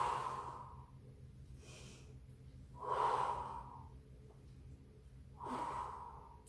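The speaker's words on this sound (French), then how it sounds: "pour la respiration, j'inspire" Deliberate breaths during a Pilates exercise, taken lying on the floor: three slow, audible inhale-exhale cycles, close and unhurried, with a breathy rush on each exhale and quiet pauses between.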